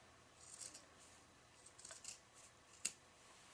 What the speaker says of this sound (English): My scissors are needing to be sharpened.